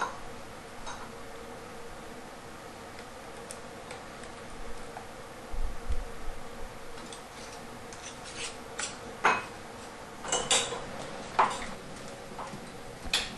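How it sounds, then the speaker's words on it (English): Lids and metal rings are set onto glass canning jars for salsa, giving a scattering of light clicks and taps, close and moderately loud, spread irregularly over quiet room noise. "And I place my lid and my rings on my jars."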